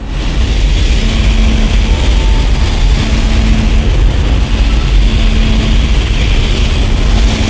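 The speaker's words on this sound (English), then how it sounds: "Engines firing." Spaceship engines in Dead Space (2008) give a loud, steady roar, rumbling continuously with a deep low hum and no pauses throughout.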